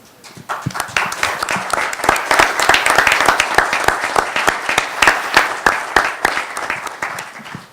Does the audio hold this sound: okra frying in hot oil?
no